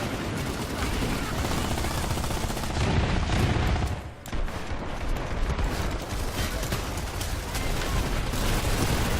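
Video game gunfire crackles in dense, rapid bursts, loud and continuous, with a brief lull partway through before the shooting picks up again.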